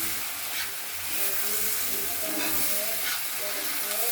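Noodles fry with noodle masala in a pan, giving a loud, continuous sizzle with steady stirring and scraping close up throughout.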